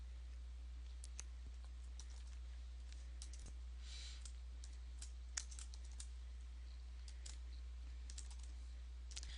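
Login credentials typed on a computer keyboard: scattered light key clicks in uneven bursts, close but quiet over a low steady hum, with no talk.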